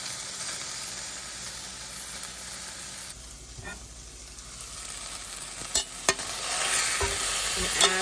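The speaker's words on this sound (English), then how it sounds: "we're going to flip this meat over and cook it for a little bit on the other side" Beef tips frying in a pan with a little oil, a steady close sizzle and hiss that swells louder toward the end, broken by a few sharp clinks and scrapes as the meat is flipped.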